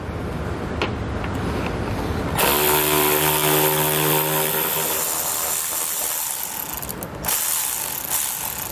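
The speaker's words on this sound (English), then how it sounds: "We'll be using an 8mm socket to remove those." Ratcheting 8mm socket tool loosening the bolts that hold the lower front fascia to the core support on a 2019 Ford Explorer, a steady close buzzing whir running for several seconds with no talk.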